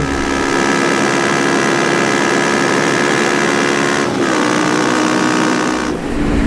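A Kawasaki ER5 motorcycle engine revs hard and close, holding a loud, sustained howl with a strong tonal whine, briefly dipping twice before climbing again.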